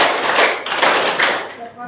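A group claps a counted rhythm pattern at a teacher training session, with quick bursts of hand claps in short groups close by and voices mixed in.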